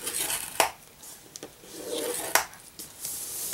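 Scoring tool drawn along white cardstock for a candy box card, a few quiet scraping rubs with sharp little taps as the tool is set down, faint and close.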